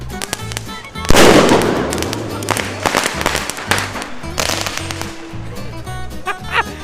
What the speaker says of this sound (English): Everybody's using firecrackers.